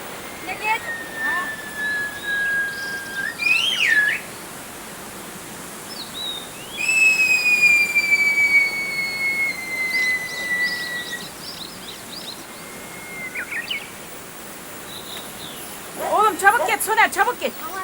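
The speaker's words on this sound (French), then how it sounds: "La vie à Kouskoï commence et finit par des sifflements." Villagers of Kouskoï whistle to each other across a valley in their whistled language: long sliding high tones and short chirpy phrases, clear and carrying over a steady rushing background, with brief pauses between exchanges.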